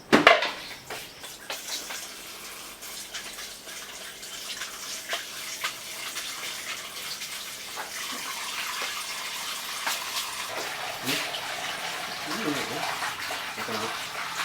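Fish being rinsed under a running tap at a sink, close splashing and trickling water with light clatters of pans and utensils, while people talk intermittently.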